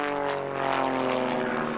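A Giles 202 aerobatic propeller plane drones steadily overhead, its engine giving a sustained buzzing tone with faintly shifting pitch, heard alone and fairly distant.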